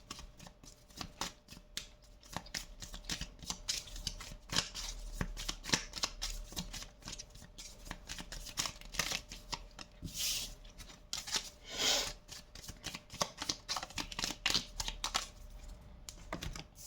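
Oracle cards are shuffled over and over in fast, crisp riffling bursts, close and fairly quiet, with brief pauses between the runs.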